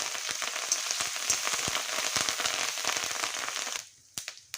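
Tempering seeds, dried red chillies and curry leaves fry in hot oil, giving a dense, steady crackling sizzle that fades near the end into a few isolated pops.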